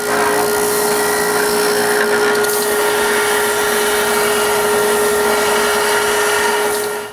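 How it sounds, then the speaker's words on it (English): A power sander rounds over a wooden corner with a loud, constant whirring drone that holds steady without a break and stops abruptly at the end. "I sand the corner round."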